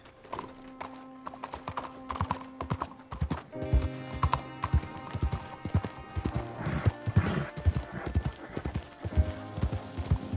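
Horse hooves clip-clopping in the game Red Dead Redemption 2, a steady rhythmic series of close hoof strikes that grows busier, with a whinny early on and game music beneath, fairly quiet overall.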